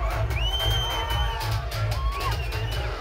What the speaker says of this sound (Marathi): विजयानंतर सर्वत्र जल्लोष करण्यात आला।